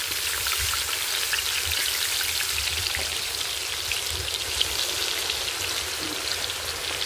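Onion and tomato paste frying in hot oil over cumin seeds gives a steady, dense sizzle with a crackling hiss that holds evenly throughout, close and alone.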